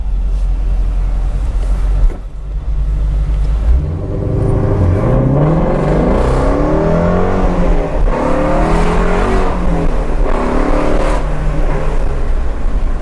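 A Ford Mustang GT350 with its resonator deleted launches from a stop and revs hard, its loud, close engine note climbing steadily with a raspy rumble and no talk.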